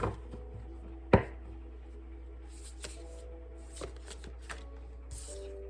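Quiet tarot card shuffling with soft riffling bursts and one sharp tap, repeated at intervals against a low background hum.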